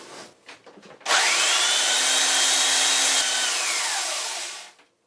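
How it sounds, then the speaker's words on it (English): Power sander working wood on a wooden boat, a sudden sustained whine with a steady buzzing tone that runs for several seconds before winding down, close and alone. "give it a little sanding"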